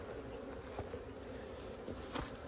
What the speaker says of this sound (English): So there's the bees on top.